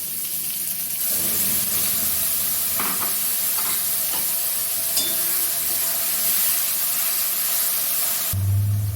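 Water poured into a pan of sizzling ground mustard paste and green chillies for a raw mango curry, a steady frying hiss with stirring and splashing that continues throughout.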